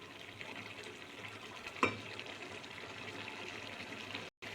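Potato and rice paste being stirred and sautéed in a pan for a vegetarian banana-flower dish, a steady low sizzle with a single sharp scrape partway through and a brief dropout near the end.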